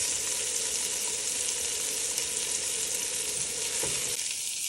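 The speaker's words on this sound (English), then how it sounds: "I like the flavor the soup gets whenever you brown the meatballs." Meatballs for Mexican Caldo de Albondigas soup browning in a hot pan, a steady close sizzle and fry hiss running throughout with a brief clack of a utensil near the end.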